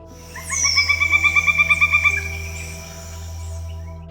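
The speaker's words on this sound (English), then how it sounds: "They're also the largest of the woodpeckers, being about the same size as a crow, and their call sounds like a dinosaur roaring in the forest." A pileated woodpecker gives a rapid series of about a dozen loud, evenly spaced calls lasting under two seconds, close by, over a steady low background hum.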